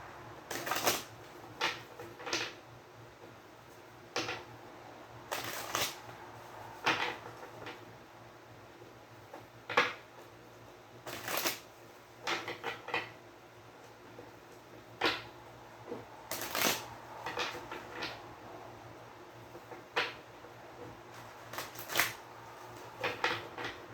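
Tarot cards are shuffled in soft, irregular riffles and taps, close and quiet, with short pauses between bursts.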